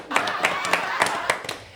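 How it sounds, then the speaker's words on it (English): A handful of sharp hand claps land in a loose, steady rhythm, roughly a clap every third of a second, fairly close and clear, with some voices mixed in. "Let's clap that right there."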